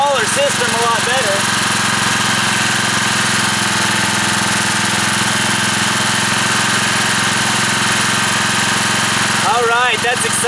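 A 4000-watt industrial-grade generator running on wood stove smoke drones steadily throughout, a loud continuous engine hum that holds even, with a voice talking over it at the start and end.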